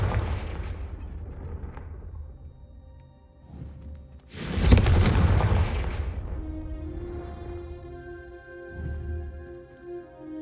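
A Confringo fire spell in Hogwarts Legacy bursts into one loud, broad explosive boom partway through, trailing off into a rumbling decay over a low, steady game background.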